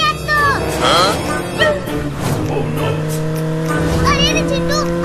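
Cartoon motorbike engine droning and revving beneath animated characters' chatter and exclamations, with a steady motor hum and rising pitch sweeps.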